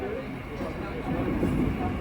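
An ICF MEMU train runs in rain on the Katwa–Ahmedpur line, heard from on board as a continuous rumbling roll with wheel and track noise that grows slightly louder partway through.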